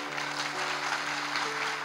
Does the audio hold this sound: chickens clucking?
no